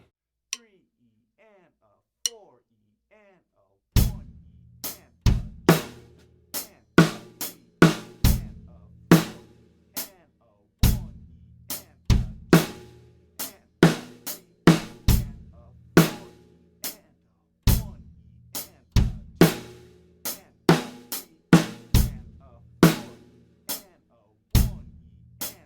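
A drum kit plays a beginner lesson beat mixing eighth and sixteenth notes, with a few sticks-click count-in taps followed by steady, punchy kick, snare and hi-hat hits repeating in a regular pattern.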